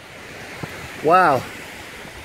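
A small babbling brook flows beside a mountain trail on the Hornbeck Trail, a steady, soft wash of running water throughout, with one brief exclaimed word from a voice partway through.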